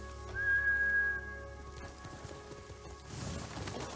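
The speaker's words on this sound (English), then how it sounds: "Horse." Horse hooves clip-clop in the video game Ghost of Tsushima, a steady, fairly faint trotting rhythm under a high whistle tone and rain-like ambience.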